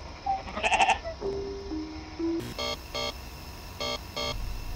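Sheep bleat repeatedly in the video game Amanda the Adventurer, a few short, tonal bleats in quick succession with electronic game tones just before, fairly close and clear with no talking.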